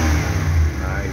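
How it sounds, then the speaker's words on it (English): A tuned 1,000-horsepower V8 petrol engine in a Nissan Super Safari revs loudly and close, a deep rumbling surge that rises and eases within a second. "nice petrol engine"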